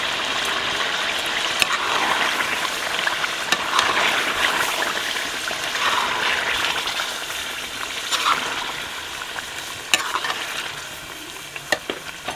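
Spinach is stirred into a frying masala for palak gosht, a steady close sizzle with repeated scraping and stirring strokes throughout, no talking.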